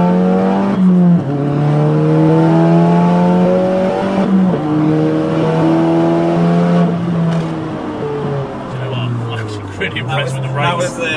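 A Stage 3 VW Polo GTI with an IS20 turbo accelerating on an open road, engine note climbing loudly through several gears with sharp drops at each shift, heard from inside the car.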